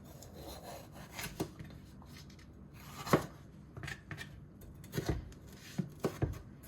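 Quiet, irregular slicing and chopping sounds of a freshly sharpened kitchen knife cutting through food, with scattered soft scrapes and taps at an uneven pace.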